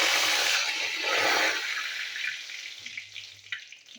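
Bay leaf dropped into hot white cooking oil for tempering khichdi, giving a loud broadband sizzle that fades to a softer crackle over a few seconds, with no talking.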